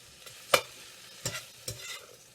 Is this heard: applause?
no